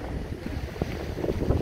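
Strong wind buffets the microphone on Chesil Beach at Abbotsbury, a steady low roar with gusty rumbling and faint surf beneath, continuous throughout.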